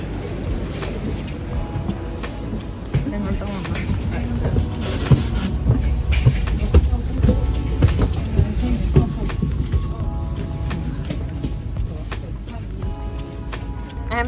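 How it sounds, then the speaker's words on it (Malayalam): Train ride to Amsterdam Central, a steady rumbling rolling noise with rhythmic rail clatter and brief squeals, people talking over it throughout. "നമ്മൾ ആ ട്രെയിൻ എടുത്തു."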